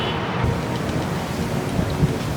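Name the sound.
strong wind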